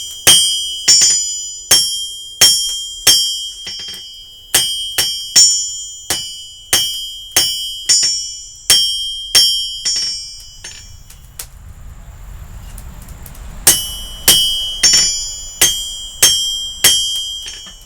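A hammer forges a knife tang on an anvil: bright, ringing metallic strikes land in a steady rhythm, pause for a few seconds of quiet, then resume, close and loud.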